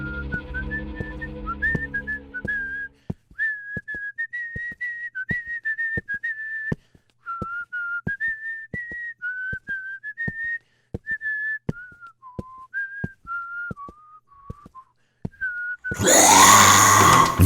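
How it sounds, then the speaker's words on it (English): A man whistles a wandering melody, clear and close, with a short burst of noisy sound at the very end. "begins whistling to taunt his abyssal stalker"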